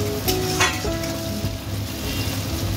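Tomatoes go into onions and cardamom frying in a pan, giving a steady close sizzle with a few stirring scrapes and clinks and no voices.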